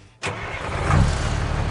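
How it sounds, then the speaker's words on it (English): A large truck engine cranks and catches in a parking lot, a sudden loud burst settling into a steady, close rumbling idle. "I am starting the truck!"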